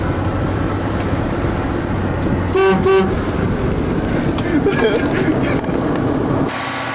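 A few short car horn toots sound in quick succession against steady background rumble and chatter.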